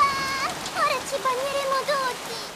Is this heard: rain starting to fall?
yes